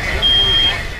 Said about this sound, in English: the smoke alarms go off in both rooms